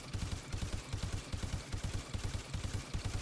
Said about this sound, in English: Let's go ahead and empty out a few shots here